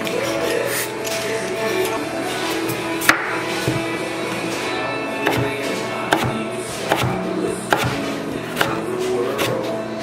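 Knife chopping peeled potatoes into fry-shaped strips on a board, a series of sharp, irregular cuts close by over steady background hum.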